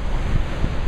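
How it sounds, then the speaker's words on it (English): Rough ocean surf at Seaside Heights beach roars under heavy wind buffeting the microphone, a loud, constant low rumble with no voices. "And here's the beautiful ocean. A little rough today with the weather we've gotten recently."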